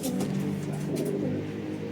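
Racing pigeons coo softly in their loft after returning from a 188 km race, low repeated cooing close by with faint background noise.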